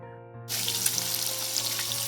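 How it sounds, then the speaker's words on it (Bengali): Fish frying in hot oil gives a steady, close sizzle that starts abruptly and crackles continuously, with a faint low hum underneath. "এখানে মাছ ভাজা চলছে"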